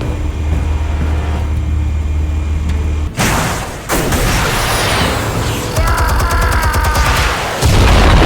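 Explosives detonate in the Telltale Batman video game: after a low steady hum, a sudden loud booming blast breaks out, followed by crackling, rumbling debris and more bursts.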